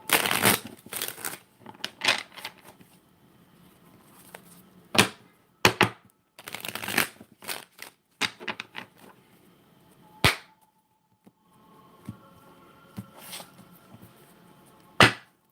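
Close, crisp bursts of card shuffling, sharp riffles and snaps separated by quiet gaps, no voices.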